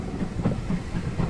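A heritage train on the Keighley and Worth Valley Railway runs along the track, heard as a steady low rumble with soft rhythmic clatter from the wheels, as if from inside a carriage.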